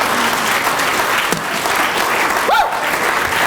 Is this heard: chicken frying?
no